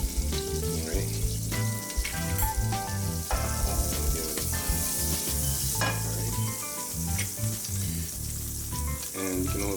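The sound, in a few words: vegan grilled cheese sandwich frying in a buttered pan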